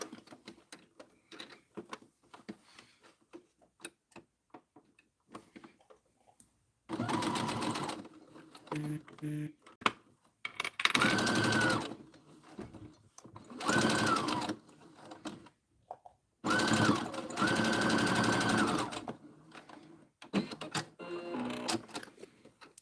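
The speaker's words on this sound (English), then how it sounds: "next thing I'm going to sew straight lines down both ends" Sewing machine stitching straight lines down the ends of a boxy zipper pouch, running in several sustained bursts with quiet pauses between, loud and close, with a few soft handling sounds in the gaps.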